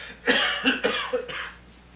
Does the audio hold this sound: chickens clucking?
no